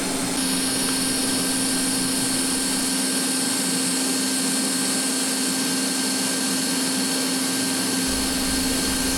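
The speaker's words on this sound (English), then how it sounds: "the Everlast has no problem keeping a nice, tight, uniform arc while welding." An Everlast welder holding a tight, steady arc during welding, giving a loud, continuous buzzing hiss with no breaks and no talk.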